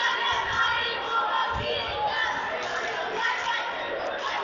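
Crowd in a school gym at a Brownsburg versus Plainfield basketball game, a steady murmur of chatter and scattered shouts with a couple of low thumps, moderately loud and continuous.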